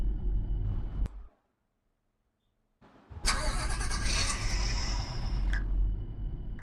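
Tata truck engine in the Indian truck-driving game Truck Masters India, running loudly, cutting out into about two seconds of silence, then restarting and revving steadily up close.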